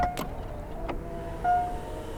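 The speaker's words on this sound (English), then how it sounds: "It has a power trunk and kick to open." A quiet electric motor whirs briefly as the power trunk lid of a Mercedes-Benz EQS 450+ opens, with soft clicks and a faint tone against a low background hum.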